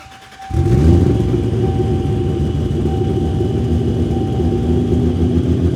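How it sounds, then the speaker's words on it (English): A Toyota Supra drag car engine cranks and fires after a brief quiet moment, then settles into a loud, steady, lumpy idle that rumbles on close by with no talking. "All right, let's start this car."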